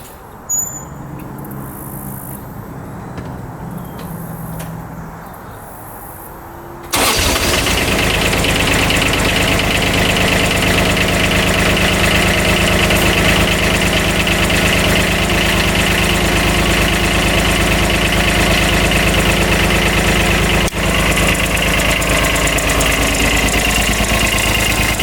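A cheap Kubota diesel UTV bought at auction cranks briefly and catches, then settles into a loud, steady, rattling idle with a knocking diesel clatter, close up outdoors and with no talking.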